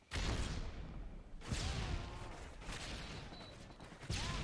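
Explosions and gunfire from Modern Warfare 3 come as several loud, broadband bursts, one at the start and another near the end, with a continuous rumble of battle noise between them.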